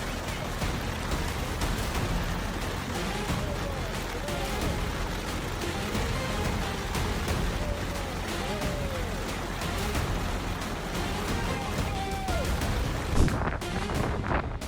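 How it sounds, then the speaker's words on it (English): A large hailstorm pours down on a residential area, a loud, dense, unbroken roar of stones drumming and clattering on surfaces, with occasional sharper impacts and brief voices of people reacting. "a large hailstorm poured down, causing damage to the property of the residents"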